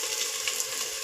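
Curry leaves crackle in hot oil alongside onions for a bean sambar, a brief, bright, steady sizzle heard up close with no talk.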